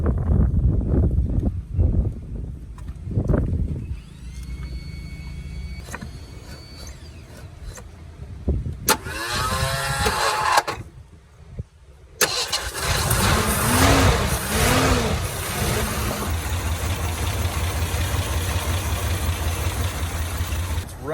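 A Ford Bronco II, sitting unused for almost 20 years, cranks through a few attempts and then catches, settling into a steady close idle that runs on continuously.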